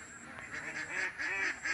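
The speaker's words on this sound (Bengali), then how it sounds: "অসংখ্য হাঁস চমৎকার একটা পুকুরে সাঁতরাচ্ছে কত হাঁস" Ducks swimming on a pond give a rapid run of nasal honking quacks, several calls in quick succession, fairly close and moderately loud.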